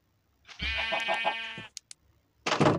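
A sheep in Minecraft Pocket Edition lets out a single wavering bleat lasting about a second, followed by a couple of small clicks and a short burst of rustling noise.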